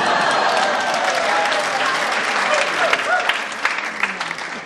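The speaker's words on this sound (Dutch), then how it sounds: "applaus" Applause from an audience at a farewell gathering, steady and loud throughout with a few sharper individual claps near the end.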